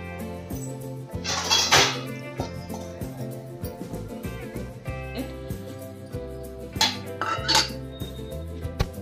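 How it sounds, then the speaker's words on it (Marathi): A lid goes onto a pot so rice flour dough for ukdiche modak can steam, making two brief metallic clatters amid lighter kitchen clinks and shuffling nearby. "वरती ढक्कन झाकून सनी याची 5 मिनिट वाफ काढून घ्यायचं आहे।"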